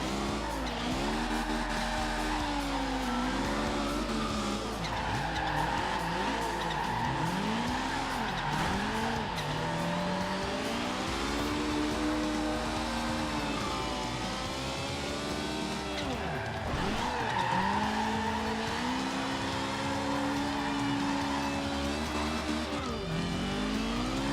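'73 BMW Turbo drifting in the Forza Horizon 2 video game, with a continuous loud engine roar and long wavering tire squeals that rise and fall through repeated slides.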